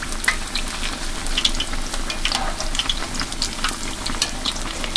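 Fish frying in hot oil in a small pan, a bright continuous crackle with busy popping spatters throughout, near and moderately loud, no voices.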